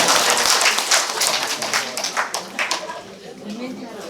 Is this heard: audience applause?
yes